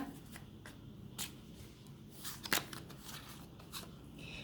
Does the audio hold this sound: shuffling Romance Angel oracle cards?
yes